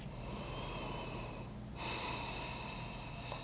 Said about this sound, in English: Take a full inhale and exhale here.